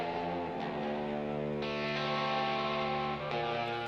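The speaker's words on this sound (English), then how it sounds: "Now let's check out the Studio Reverb plugin." Sustained electric guitar chords ringing out with a wash of Guitar Rig Studio Reverb plugin, notes changing a couple of times and blending into a lingering tail.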